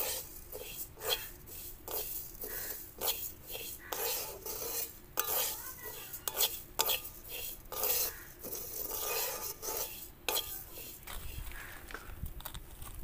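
Mung dal being dry-fried in a hot kadai, stirred with a spatula for a vegetarian mung dal with papaya: repeated scraping and rattling strokes of utensil against metal, close and fairly steady, with no talk.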